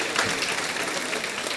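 Dense, even audience applause at an award ceremony in Senegal, a brief burst of many hands clapping with no voices over it.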